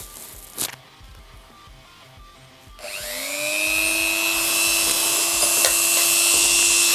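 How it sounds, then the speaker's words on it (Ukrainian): A Procraft PG400 rotary engraver fitted with a cut-off disc winds up to a loud, high steady whine after a quiet stretch with a faint tap, with the pitch rising as it reaches speed and then grinding on as it cuts. "Спробуємо відрізним диском щось, як не странно відрізати."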